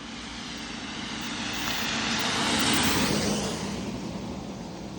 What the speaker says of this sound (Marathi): ही आता एक गाडी आली इकडून